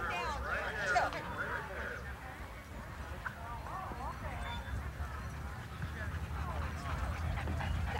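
German Shepherd puppy giving several short yelping barks and whimpers, fairly faint, mixed with people talking and moving around outdoors.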